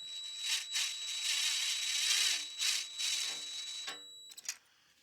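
Bolt being turned into the cylinder head of a Kohler V-twin engine during a head gasket job, a few close, short raspy metallic rubbing bursts followed by brief clicks.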